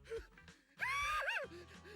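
A voiced scream of fright from the video game Zenless Zone Zero, a short gasp followed by a loud, sustained wavering cry that trails off into a lower groan.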